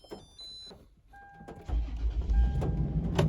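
A Toyota 4Runner engine cranks over and fires up by remote start, catching after a brief quiet spell and settling into a loud, steady idle close by, with a short electronic chirp near the start.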